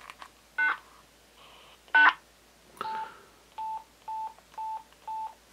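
Quansheng handheld radio on the 2 meter band sending a text message, giving a short series of distinct electronic tone bursts, two longer chirps then a rhythmic run of four even beeps, close and clean.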